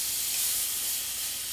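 Skirt steak lands on a preheated griddle with a little oil, producing a loud, close, steady hiss of searing that fills the moment without any talk over it.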